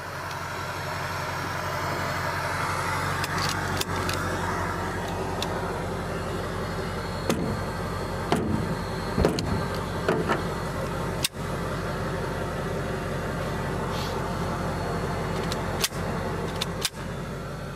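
Hunters' truck idling with a steady low engine rumble throughout, punctuated by clicks and knocks from doors and gear being handled nearby.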